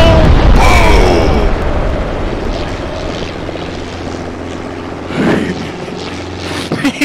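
A heavy detonation booms in Arma 3 (SOG Prairie Fire) during a tactical truck strike, mixed with a loud roar of aircraft engines. The blast hits hard at the start, then a further rumble swells midway as the engine noise fades.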